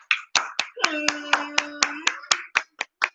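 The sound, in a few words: people clapping hands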